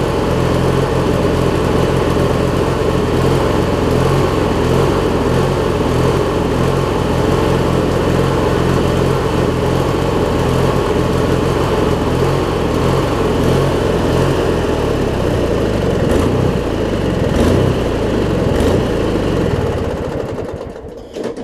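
An MTD LT1442 riding mower engine with a 4-screw carburetor runs steadily and loudly up close, a buzzing idle with slight unevenness that holds for about twenty seconds before dropping off at the end.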